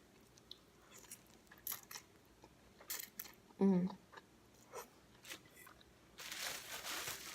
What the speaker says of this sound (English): This is some Cuban bread. Nice and chewy.